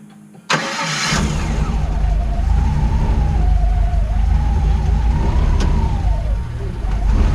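After a brief quiet moment, the engine of a fire-damaged ECTO-1 build cranks and catches, settling into a loud, rough, rumbling run as the car is nudged back a little, with no voices heard.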